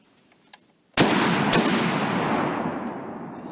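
A single booming shot from a Barrett M82A1 .50 BMG anti-materiel rifle cracks out sharply after a small click, then rolls into a long, loud echoing decay that lingers for several seconds outdoors.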